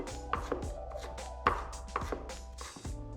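A knife finely chopping ginger on a cutting board, with irregular sharp taps against the board, close and fairly quiet, and no talking.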